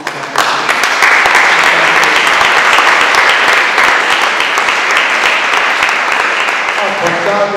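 A studio audience at an Italian television tribute gives loud, sustained applause that fills nearly the whole stretch close to the microphone.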